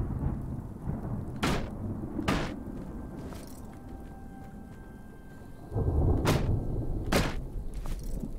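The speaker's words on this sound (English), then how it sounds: "We just had a big storm and now it's storming again." Thunderstorm in the survival game Smalland, with steady rain and several sharp thunder cracks and rumbles spread across the stretch, the rain growing heavier toward the end.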